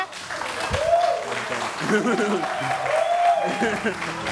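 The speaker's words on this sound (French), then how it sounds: "On peut applaudir, s'il vous plaît?" An audience applauds at a live event in Côte d'Ivoire, the clapping partly masked by a voice and cheering calls over it.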